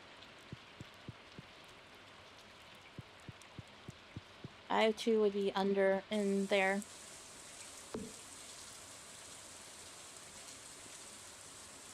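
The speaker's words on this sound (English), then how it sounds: "it is raining." Rain falling in the farming game Stardew Valley, a soft steady patter with scattered ticking drops under a brief stretch of talking, continuing faintly on its own afterward.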